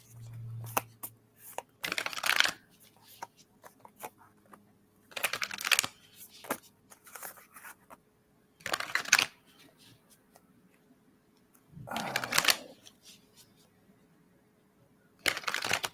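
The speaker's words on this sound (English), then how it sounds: "I'm going to just start shuffling cards here." Playing cards are shuffled by hand at a table in repeated short riffling bursts, each a second or so long and separated by quiet gaps filled with soft handling clicks and taps, with no talking.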